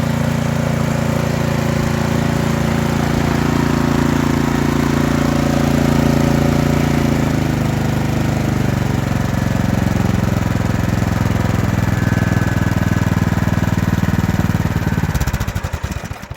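A Troy-Bilt snow blower engine, freshly tuned up with a cleaned carburetor, runs steadily and loudly up close, a continuous even mechanical drone that holds for the whole stretch before a rattling change near the end, with no talking.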